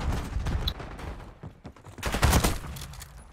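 Gunfire from a shotgun in the video game Black Ops 6 rattles out in several rough, noisy bursts, with the heaviest volley near the end, fairly close and loud.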